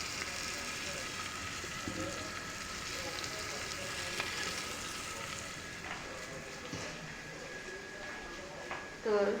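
Spring onion greens sizzle and fry in a pan with tomato and peas for a mushroom veg biryani, a steady close crackle throughout with a brief stir or clatter near the end.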